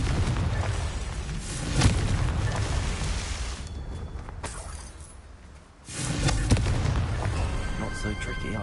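A Confringo fire spell goes off in the Hogwarts Legacy video game, with a couple of heavy booming blasts over a rumbling background and voices underneath.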